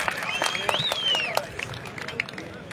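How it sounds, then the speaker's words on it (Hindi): Brief burst of crowd clapping at a camel weighing event in Chakwal, mixed with shouting and an announcer's voice over a busy outdoor hubbub. "शौकीन हजरात एक बारी जोरदार ताली सुना दे"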